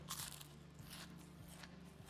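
Crunchy biting and chewing noises as a chicken leg is eaten in the game Project Zomboid, a few crisp bites over a steady low background hum.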